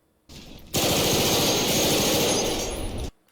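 Sustained automatic gunfire from an action scene in Batman Begins, a dense, loud continuous burst lasting about two and a half seconds with a rumbling low end, then cutting off abruptly.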